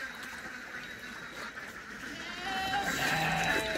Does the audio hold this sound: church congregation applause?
no